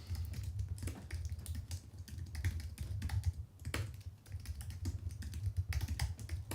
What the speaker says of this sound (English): I can type. Oh, I've got my keyboard here.